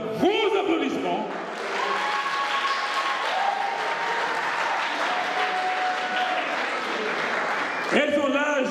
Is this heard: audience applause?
yes